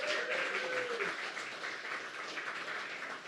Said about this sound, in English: How about another round of applause for Possum Fox?